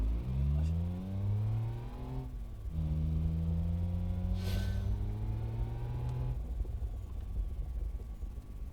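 Nitrous-equipped car in the BeamNG.Drive driving game accelerating hard, its engine tone climbing through rising harmonics, dropping on a gear change, then climbing again, loud and close throughout, with a brief burst of hiss midway.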